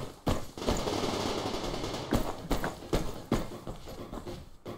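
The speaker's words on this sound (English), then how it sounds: "I hear footsteps." Footsteps in the video game Survarium, a steady run of thudding steps over a dense, loud noisy background, with sharp impacts that could be gunfire among them.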